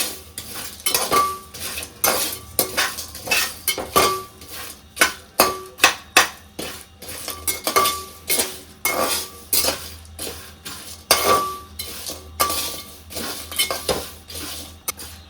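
Dried Guntur red chillies are stirred in a pan while lightly roasting, giving repeated clinks and scrapes of a metal spoon against the pan in an uneven rhythm, close and clear with no talking.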